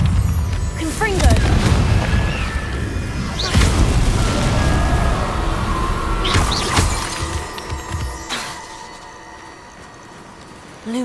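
Fiery Confringo blasting spell from Hogwarts Legacy, a video game, going off as a run of loud booming, crashing bursts with debris-like clatter, fading toward the end.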